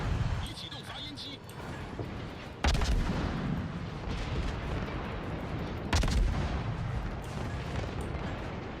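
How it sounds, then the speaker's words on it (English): Secondary guns on the German battleship Friedrich in World of Warships, booming in scattered reports with two heavier blasts, under ongoing talk and busy battle noise. "And secondaries from the Friedrich is going off."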